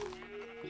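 A Minecraft sheep bleats once, a short wavering baa with a steady tone, near and fairly clear, the magenta sheep of a survival wool farm.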